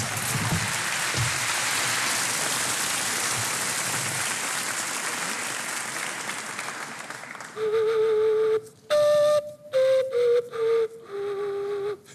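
Whistling made by blowing on aluminium foil: after a long stretch of broad hissing noise, a series of clear, loud whistle tones comes in short bursts, stepping between pitches and sliding downward.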